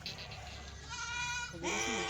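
A Kathiawadi goat gives a fairly faint drawn-out bleat, followed by a second wavering call near the end, against a quiet background with some murmured talk.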